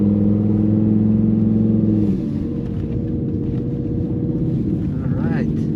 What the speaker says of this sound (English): I love how when you put it in performance mode, it raises the RPM a little bit.